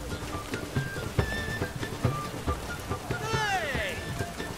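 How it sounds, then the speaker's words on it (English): A heavy downpour in a video game patters steadily and fairly quietly with scattered droplet hits, while a high sweeping whistle rises briefly near the end. "What a downpour."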